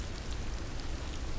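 Steady heavy downpour of rain, a dense continuous hiss with low rumble throughout, no voices and nothing else standing out.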